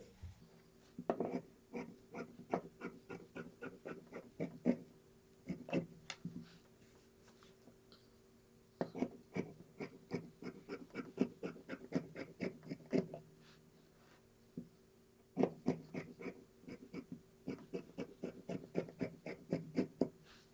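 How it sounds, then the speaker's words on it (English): Scissors snipping strips of fabric from a leftover pant leg along the seam, a series of quick crisp cuts in bursts with short pauses, close and fairly quiet. "So we're going to cut strips out of that."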